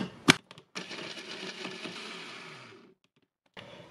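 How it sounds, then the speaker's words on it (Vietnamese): A blender grinds garlic with ginger, a sharp knock followed by a steady whirring roar for about two seconds that winds down, then stops before briefly starting again. "Mình xay với lại 10 g gừng"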